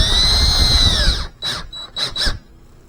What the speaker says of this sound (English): And I'm going to start these with the electric drill,